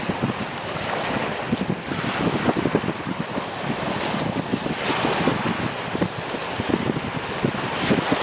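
Strong wind blows outdoors and buffets the microphone in a continuous loud roar, with gusts swelling and easing across the whole stretch and no voices.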